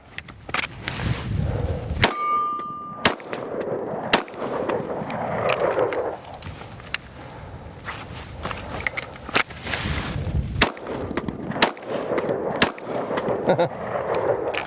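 Ruger RXM pistol fired at two steel targets in sharp, separated shots spread across the clip, some single and some in quick pairs, with faint movement and handling noise between them.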